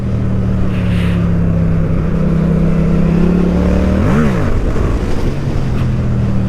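A Yamaha MT-07 motorcycle engine holds a steady loud drone, then revs up and drops back in one quick swell before settling into a constant hum, heard up close while riding.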